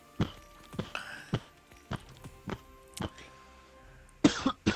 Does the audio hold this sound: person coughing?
yes